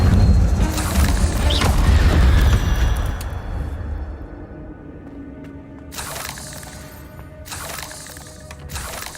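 Incendio fire spell cast in Hogwarts Legacy, a loud rumbling whoosh that fades out, followed by quieter sharp bursts and clinks.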